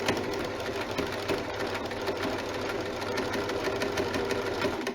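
A sewing machine stitches a jersey neckband onto a jersey top, a steady close mechanical whirr with a fast needle rhythm running unbroken throughout.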